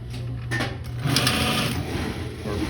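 A sewing machine stitches thick blanket coat fabric in a quick continuous whir, pausing briefly and then running on again, close and fairly loud.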